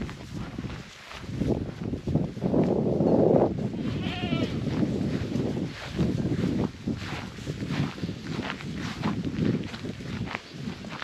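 Kiko meat goats on a farm bleat a few times, close and moderately loud, with rustling and footsteps around them in an outdoor setting.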